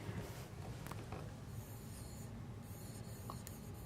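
Marker or chalk strokes on a board during a classroom lesson, short faint scratchy bursts of writing in a quiet room.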